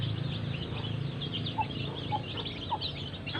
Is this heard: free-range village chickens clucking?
yes